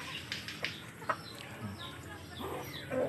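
Backyard chickens on a small Philippine poultry farm cluck in short scattered bursts, close and moderately loud, with other bird calls and some faint background noise between them.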